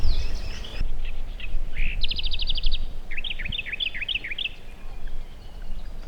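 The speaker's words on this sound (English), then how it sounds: "One of the most common and widespread species of birds found in Australia is galah." Galahs call at Morgan Lagoons, a run of rapid, squeaky chirps followed by a series of shrill, rising screeches, fairly close over a low, breezy outdoor background.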